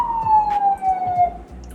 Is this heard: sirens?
yes